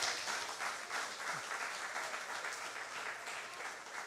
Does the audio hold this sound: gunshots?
no